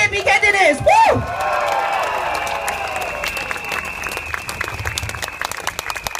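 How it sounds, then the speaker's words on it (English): Political rally crowd applauding People's Action Party candidates in Singapore, a dense wash of clapping with scattered cheers, opening with loud whoops and a voice over the crowd, then steady applause that carries on and slowly thins. "Big round of applause for our PAP candidates."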